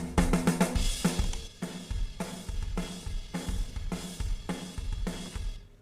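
Programmed MIDI drums run through Cubase RoomWorks room reverb at full mix play a punchy groove of kick, snare and cymbal hits in regular rhythm, with a boomy low-end rumble and a roomy tail, loud and alone.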